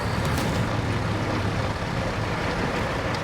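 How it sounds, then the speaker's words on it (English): A heavily laden truck hauling an oversized load up a steep Australian outback incline, its engine a loud continuous low labouring roar with a dense broadband rumble, close and steady with no voices. "A steep incline, an oversized load, tyres losing traction."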